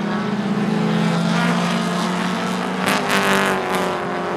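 Super short track race cars roar down the track on the final lap, a dense, loud engine drone holding steady with a brief surge of higher whine near the end.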